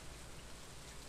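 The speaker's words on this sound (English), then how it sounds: "I think because it's a rainy day" Rain in the farming video game Stardew Valley, a faint, steady hiss of falling drops with no other sounds.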